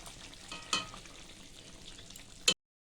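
Pointed gourd posto with raw mustard oil cooking in a pan, a soft continuous sizzle with a couple of sharp utensil clinks, brief and fairly quiet.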